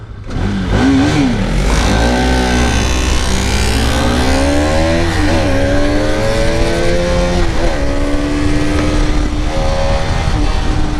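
A motorcycle engine runs loudly and continuously close by while riding, its pitch rising and falling through gear shifts, with steady wind and road roar throughout.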